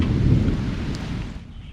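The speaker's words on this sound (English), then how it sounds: "I just saw some lightning besides thunder, so we're going to go ahead and go inside and take cover." Loud thunder rolls through a summer storm outdoors, a deep rumble that swells and then fades out, with rain hiss beneath and no talking.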